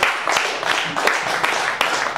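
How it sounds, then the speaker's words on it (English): A church congregation in a sanctuary claps steadily for a man named Sylvester, a dense, continuous patter of many hands close by. "Come on, clap for my son Sylvester."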